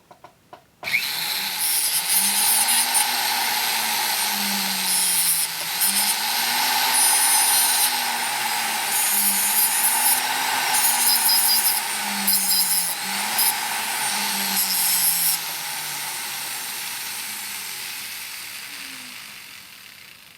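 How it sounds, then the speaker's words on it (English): A rotary tool fitted with a sandpaper roll sands seams, a high steady whine with repeated wavering pitch dips as it bears on the work, with some intermittent higher grinding. "now we can take either a sandpaper roll or a disc and clean up the seams"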